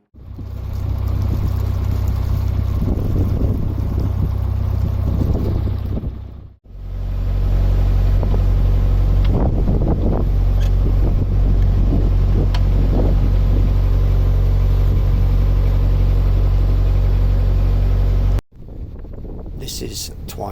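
A narrowboat engine on a canal drones steadily with wind buffeting the microphone, its revs rising and falling unevenly; the rumble cuts out briefly twice.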